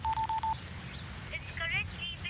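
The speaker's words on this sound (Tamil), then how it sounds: "ஃபோன் நம்பர் ட்ரை பண்றா" A phone keypad sounds four quick, even dialing tones in a row, followed by faint voices.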